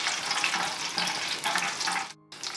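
Whole cloves, green and black cardamom, star anise and cumin sautéing in hot oil in a pan, a steady broadband sizzle holding for about two seconds before a brief drop and quick return.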